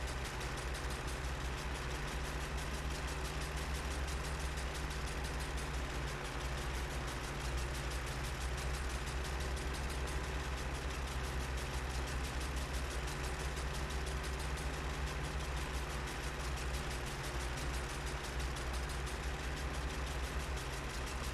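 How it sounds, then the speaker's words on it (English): A low-powered farm tractor engine idles steadily throughout, a continuous low rumble with an even mechanical hum and no pauses or talk. "I'm still loving using the low-powered tractors"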